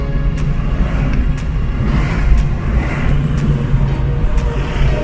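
Steady road traffic rumbles past, a continuous low drone of cars and heavier vehicles with occasional brake hisses, close and fairly loud.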